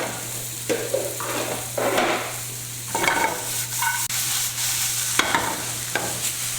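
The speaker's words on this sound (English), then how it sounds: "And they both get tossed around a lot." Onions, carrots and celery sizzling in a hot pan beside browned meat, tossed and stirred in several bursts over a constant frying hiss and a low steady hum, close by and without speech.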